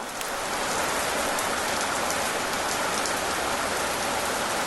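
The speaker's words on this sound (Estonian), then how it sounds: "Saja, vihmake saja. Paota pilveke, vihma on vaja." Rain falls steadily and densely in a continuous hiss, close and even in loudness throughout, with no voices.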